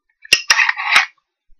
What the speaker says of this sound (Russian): Делаем пару выстрелов. Так он стреляет.